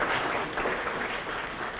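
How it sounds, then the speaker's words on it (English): An audience at an awards ceremony claps in a dense, continuous wash of applause that holds at an even level for a short burst. "I want you to give yourselves a round of applause for being here and staying here and supporting"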